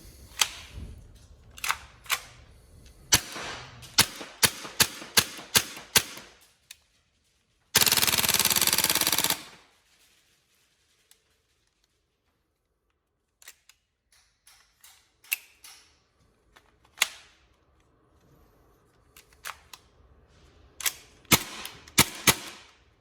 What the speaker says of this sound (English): Very fun guns, there's no two ways about that when they're on full auto, and obviously single shot for that matter